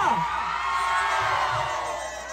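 Crowd at the Rangaija fair in Dang, Nepal, cheering and whooping continuously, a dense wash of voices that is loud and sustained through the whole stretch.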